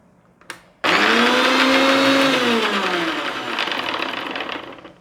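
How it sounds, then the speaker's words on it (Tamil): An electric mixer grinder blending mayonnaise whirs loudly in one steady pulse after a brief click, its motor pitch sagging slightly as it runs, with no talking. "அதை மிக்சியில் வச்சு அரைச்சிட்டு ஒரு பல்ஸ் மட்டும் நம்ம வந்து சுற்றணும்"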